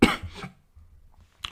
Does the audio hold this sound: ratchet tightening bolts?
no